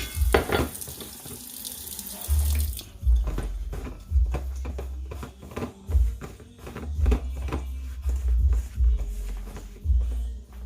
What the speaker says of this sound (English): I'm gonna add a little more water in there